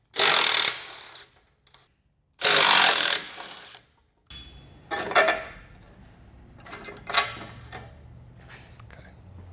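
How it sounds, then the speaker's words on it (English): An impact tool with an 18 mm socket removes the tow hooks from a 2024+ GMC 2500/3500 truck, sounding in two loud, sustained bursts of rattling buzz, followed by scattered metallic clanks and clatter as parts are handled. "we're going to take out the tow hooks with an 18 millimeter"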